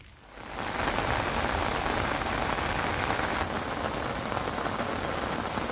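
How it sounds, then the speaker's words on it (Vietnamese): Heavy rain pouring down outdoors during a lure fishing trip, a dense, steady hiss that swells within the first half second and then stays loud and unbroken. "Giờ lại đang mưa này, to phê đó."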